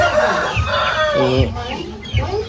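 Native chickens on a poultry farm cluck close by in a quick burst of short, throaty clucks.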